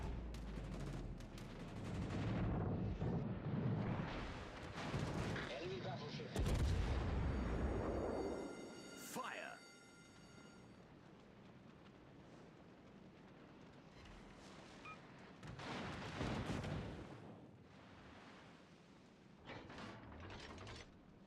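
Warship guns booming in a naval video game, heavy low blasts in the first half that fade into rumbling and scattered lighter reports, with no one talking.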